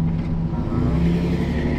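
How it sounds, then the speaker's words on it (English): Pickup truck with newly installed brakes being driven, a loud close engine drone with a steady low hum and slight rise in pitch as it moves, no voices. "we just put in some new brakes into this car, into this truck"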